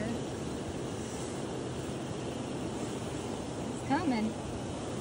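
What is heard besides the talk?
river water flowing behind old cotton mill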